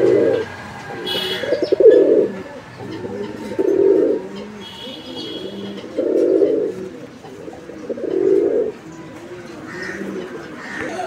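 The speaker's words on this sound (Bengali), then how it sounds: "আমরা এই মুহূর্তে দেখতে পাচ্ছি এখানে আরও এক জোড়া কবুতরের কালেকশন রয়েছে।" Pigeons coo repeatedly at a pigeon sale, low rounded calls in a regular rhythm of about five bursts, close and clear, with faint chirps and background murmur between them.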